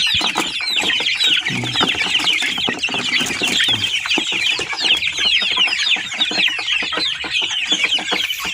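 Hungry free-range village chickens crowding over fermented rice-bran feed mixed with banana stem, a dense, continuous chorus of clucks and murmurs close by, with no voices.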